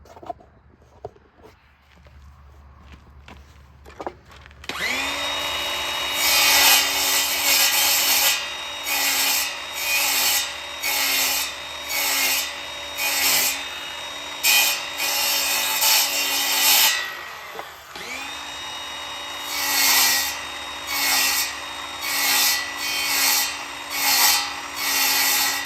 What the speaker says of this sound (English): Just gonna do that on the miter box, I think.